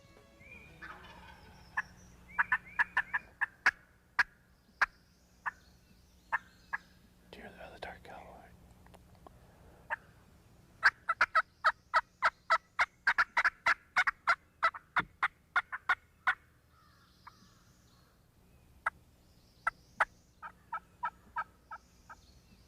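A wild turkey gobbler gobbles during a spring hunting season, answering calling from a moderate distance, with sharp clicking calls and bursts repeating in rapid runs over a steady outdoor hush, and soft whispered talk between them.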